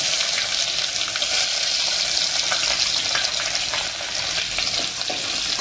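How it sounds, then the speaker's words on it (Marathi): Onion sizzling with browned garlic in hot oil in a pan while cooking sambar, a continuous close crackling hiss with light stirring throughout. "तर आता आपण कांदा घालून घेऊया."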